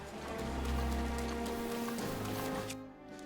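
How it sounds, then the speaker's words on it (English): Rain falling in the video game Zelda Breath of the Wild, a steady wash heard over low tonal music and droning layers, fairly loud and continuous. "Of course it's raining!"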